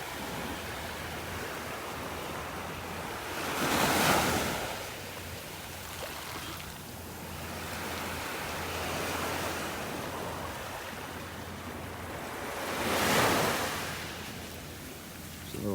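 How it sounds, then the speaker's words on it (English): Ocean waves wash onto a beach in North Naples, Florida: a steady surf hiss with two distinct surges as waves break and pull back, fairly close and with no talk. "The waves are pulling everything back into the water now up here along the edge."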